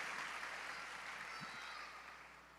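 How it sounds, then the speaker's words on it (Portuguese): Church congregation applauds during a sermon, a soft, distant patter of clapping that slowly fades. "Pode aplaudir."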